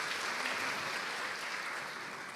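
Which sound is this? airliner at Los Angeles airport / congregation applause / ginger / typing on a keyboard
congregation applause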